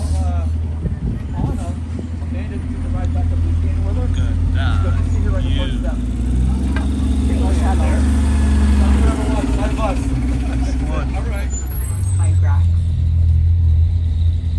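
A shuttle bus engine runs steadily during a ride from a visitor center to the Riverwalk, a loud low rumble that shifts in pitch as the bus moves, with voices talking over it throughout.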